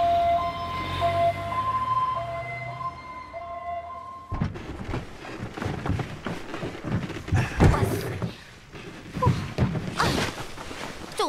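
An ambulance siren wails in a repeating rising-and-falling tone at moderate distance for a few seconds, then gives way to busy rustling, thumping noise.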